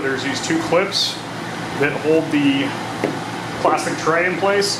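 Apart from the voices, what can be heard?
portable air conditioner fan running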